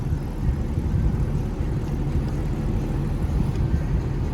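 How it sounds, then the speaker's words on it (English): A 2008 Liberty Walk Porsche 911 exhaust in the non-valved position rumbles steadily at idle, a deep continuous burble with no voices. "This is the exhaust in the non-valved position"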